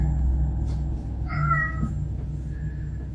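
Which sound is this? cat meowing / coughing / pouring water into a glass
cat meowing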